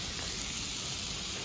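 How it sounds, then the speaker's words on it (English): Bacon and cheese sizzle and fry in a pan, a dense, steady crackling hiss throughout with no voices. "So let's get one frying and see how it goes."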